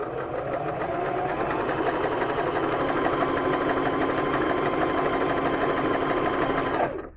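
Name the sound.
sewing machine sewing wide zigzag along fabric edge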